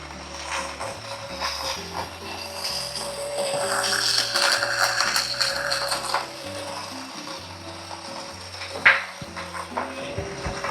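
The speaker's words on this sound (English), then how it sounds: "Like if you try to use your hand grinder in a slow RPM, it will take you like more than a minute and a half or 2 minutes" Coffee beans crunched in a CF Wisdom hand grinder, a shimmed burr mill: steady, close ratcheting grind with a gritty, uneven rhythm across the whole stretch, one sharp click near the end, with no talking.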